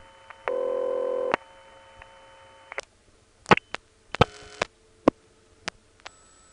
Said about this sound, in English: You can hear it while I'm dialing a number.